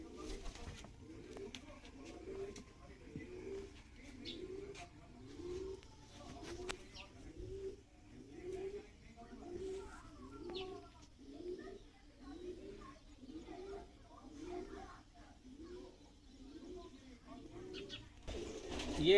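Madrasi pigeons cooing in a loft, soft repeated throaty coos in a steady rhythm of about one per second, fairly near but quiet, with faint background noise and occasional distant voices.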